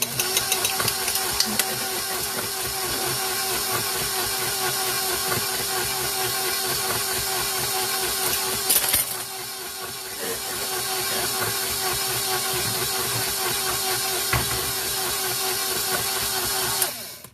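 An electric mixer runs through apple cake batter for a cinnamon apple raisin cake, a steady motor whir that holds for many seconds, dips briefly midway, then resumes until it cuts out.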